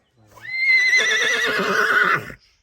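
A horse at a Ukrainian horse sale gives one loud, close whinny lasting about two seconds, rising quickly and then wavering as it trails off, with no other sounds around it.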